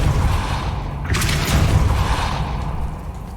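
The Depulso force spell in Hogwarts Legacy, a forceful whooshing blast that bursts out of a steady rumbling background, then trails off as the rumble continues.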